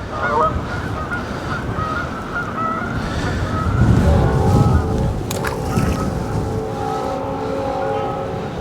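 Geese honk at a distance over steady wind and outdoor rumble beside the water, with a brief sharp knock midway followed by a few clearer drawn-out calls.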